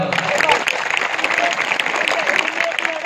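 Audience applause at a Shiv Jayanti celebration in Bhavani Dapka, a dense steady clatter of many hands that fills the whole stretch, with voices mixed in underneath.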